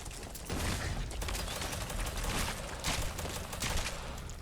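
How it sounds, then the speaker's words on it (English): Gunfire in the video game Fallout 4 sounds as a dense, continuous crackle of rapid shots, fairly quiet and without clearly separated reports. "I just run in, start shooting every fucking thing."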